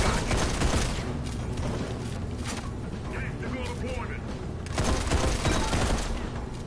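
Steady gunfire rattles through a video game firefight, dense bursts of shots layered with impacts and clatter, continuous and loud, with voices calling out over the shooting.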